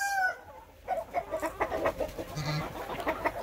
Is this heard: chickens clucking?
yes